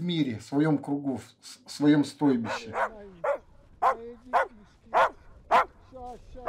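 Dogs kept by a reindeer herder out on the Arctic tundra bark and yip repeatedly, close and loud at first in overlapping bursts, then settling into spaced single barks and whimpers.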